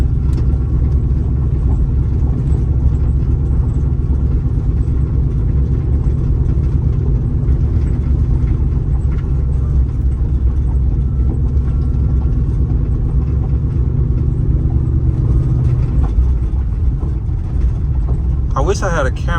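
Ford Mustang from the 1999–2004 generation, fitted with new struts and shocks, cruising on a road, heard from inside as a steady low engine and road rumble that continues throughout, with talk over it.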